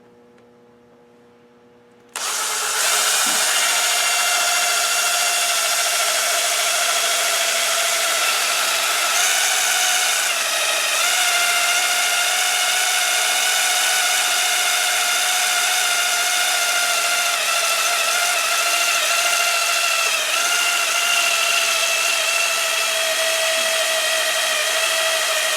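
A power drill bores a hole in a Baja Warrior mini bike frame during a reserve fuel tank install. After a brief quiet start it spins up to a close, steady whine that holds for over twenty seconds.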